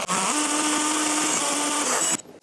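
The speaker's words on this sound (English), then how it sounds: "we'll just drill a hole." A close, high-pitched power drill whines steadily for about two seconds while boring a hole, then cuts off abruptly.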